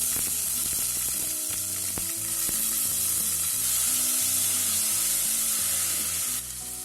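Spice paste for a raw banana curry hits a hot pan and sizzles steadily, a loud continuous frying hiss with faint scraping stirs underneath, lasting throughout.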